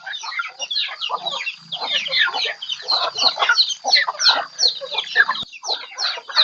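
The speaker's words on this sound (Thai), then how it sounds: "ยังให้ไก่กิน" A group of chickens clucking busily and continuously at close range while being fed rice, with overlapping calls and scattered cackles throughout.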